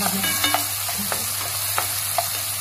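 Thinly sliced onion fries in oil in a pan, giving a steady close sizzle broken by a few soft scrapes and clicks as it is stirred.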